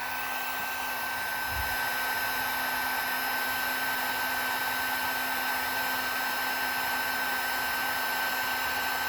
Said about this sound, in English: Then you take the heat gun. This heat gun goes to about 900 degrees,